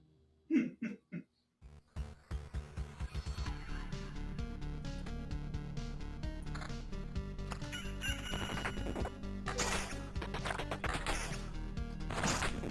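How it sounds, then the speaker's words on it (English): Crowing rooster cue marking the day cycle in the video game Loop Hero, a few sharp calls at the start, followed by a dense, loud layer of game music and effects. "The rooster you keep hearing is because there's a day cycle"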